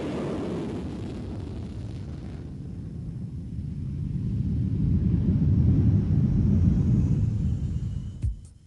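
An F-18 Hornet jet fighter gives a deep rumbling roar that swells to a loud peak midway, holds, then drops off abruptly near the end.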